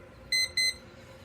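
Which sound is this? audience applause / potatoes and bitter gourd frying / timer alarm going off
timer alarm going off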